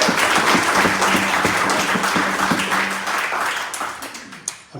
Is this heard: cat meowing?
no